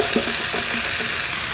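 Pumpkin pieces stir-fried in a hot pan for soup give a steady, close sizzle with faint scraping, with no talking.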